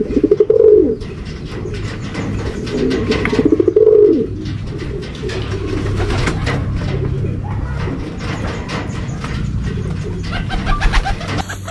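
Pigeons at a loft in Santo Tomas, Batangas give two clear, close coos near the start and again around four seconds, alongside scattered chirps and background bustle.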